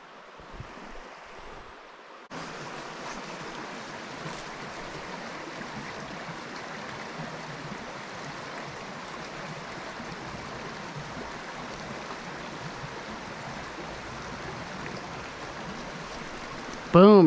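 Swollen river below a beaver dam in Pennsylvania, a steady broad rush of flowing water that holds constant for over fifteen seconds, with a quieter stretch at the start and a brief louder bump at the very end.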